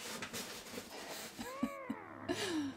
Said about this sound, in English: Life with cats, that's probably loud.